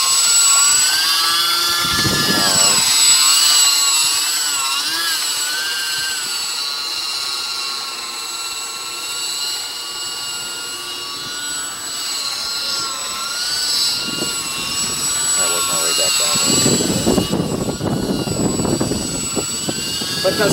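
A model aerobatic tumblewing aircraft's small engine drones steadily at full throttle in gusty weather, heard from a distance with wind rumble and occasional bursts of noise.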